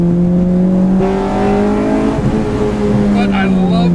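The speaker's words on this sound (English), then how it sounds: "I love the way it sounds when it hits VTEC." A Honda Civic engine revs hard and climbs into VTEC, its steady harmonic tone rising in pitch over about four seconds, close and loud, with a voice talking over part of it.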